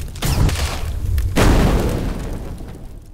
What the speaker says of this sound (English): Here, let me whack you with my ice mace